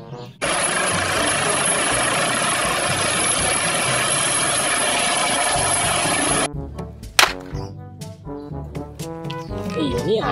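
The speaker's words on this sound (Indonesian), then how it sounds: "Oh, ini ada helikopter." A steady, loud mechanical whirring like a toy helicopter's rotor runs for about six seconds, then cuts off, followed by clattering and a sharp bang.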